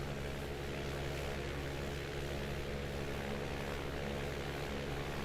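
Steady, droning propeller engine of a Piper Comanche single-engine airplane in Microsoft Flight Simulator 2020, heard from outside the aircraft as a continuous, even hum with no talking.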